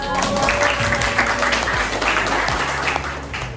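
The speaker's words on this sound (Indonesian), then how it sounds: "Beri tepuk tangan dulu untuk yang sudah meluangkan" A school audience at SMA 5 gives a round of applause, a sustained, fairly loud wash of many hands clapping with some talking mixed underneath and a slight fade toward the end.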